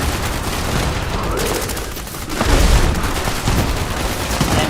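Rapid bursts of gunfire mixed with explosions during a Fallout 76 battle against a legendary Bigfoot, a loud, steady fusillade with a heavier boom partway through.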